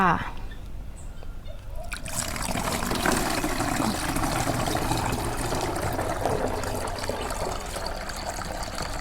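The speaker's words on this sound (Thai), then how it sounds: "ตามด้วยน้ำซาวข้าวเลยค่ะ" Rice-washing water pours steadily into a container for making a rice-water microbial solution for vegetable plants, a continuous close splashing and trickling stream after a quieter start, with no talk over it.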